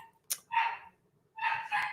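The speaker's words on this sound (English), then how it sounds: "One of my dogs barking up a storm." A dog barks downstairs, muffled by the distance: a short yelp, then one bark and two more close together, with quiet gaps between.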